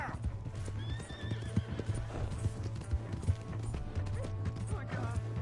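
Horse neighs and clip-clopping hooves in the Red Dead video game, rhythmic hoofbeats with a whinny near the start over a busy game soundscape.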